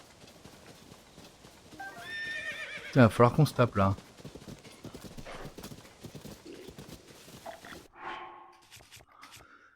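A horse in Zelda: Tears of the Kingdom clip-clops along at a gallop and lets out a loud, shrill neigh in the middle, with hoofbeats continuing afterward under someone talking in French.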